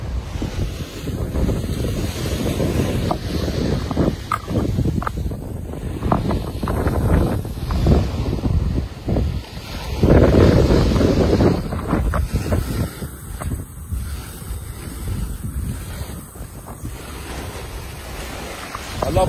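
Wind buffeting the microphone over surf breaking at Jaywick Sands secret beach, a continuous loud roar rising and falling with passing gusts.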